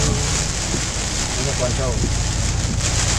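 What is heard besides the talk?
heavy rain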